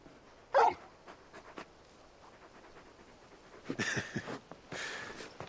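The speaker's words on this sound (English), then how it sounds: "You're just a big puppy, aren't you? A very big puppy." In the video game Final Fantasy XVI, a large dog pants and whimpers close up, with a short yelp early on followed by bursts of heavy panting breaths amid soft whines.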